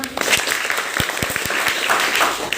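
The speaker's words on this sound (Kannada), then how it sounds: "ಅವಳಿಗೆ ಒಂದು ಚಪ್ಪಾಳೆ ಹೊಡಿಬೇಕು" A classroom audience applauds a student, giving a short burst of mixed, uneven clapping that fills the room, close and fairly loud, with no one speaking over it.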